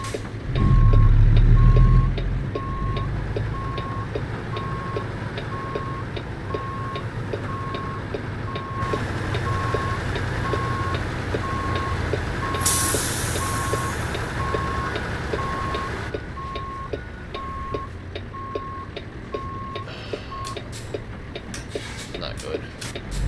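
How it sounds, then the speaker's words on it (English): An American Truck Simulator rig reverses while its backup alarm beeps in a steady, evenly spaced pulse for most of the stretch. Beneath it a diesel engine rumbles and an air brake hisses once, and a voice talks over parts of it. "This truck doesn't have enough horsepower to get it up in reverse."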